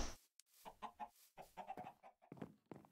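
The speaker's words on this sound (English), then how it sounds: "Chickens." Chickens in Minecraft give a string of short, quiet clucks in an irregular rhythm with soft gaps between them, alone, with no talking over them.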